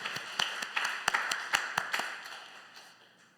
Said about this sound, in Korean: 이분들 박수 한번 주세요